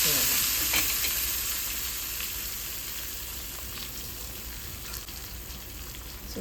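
Tempering ingredients for tomato rasam fry with a loud, steady, broadband sizzle in hot oil. The crackle stays close and continuous, easing slightly in loudness with no voices.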